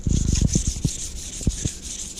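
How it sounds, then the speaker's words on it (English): A Damascus steel piece, just etched in coffee, is rubbed with 1500 grit sandpaper in quick, close, gritty strokes that start dense and then slow to a few separate passes. "now we're going to take the 1500 grit sandpaper and sand it"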